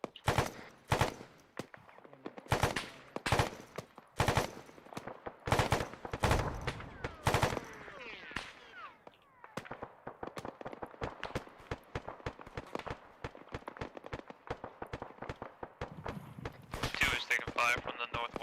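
Gunfire in the military game Arma 3, with sharp single shots and bursts of automatic fire, loud and close at first, then denser distant crackling with scattered shots, and voices faintly in the mix.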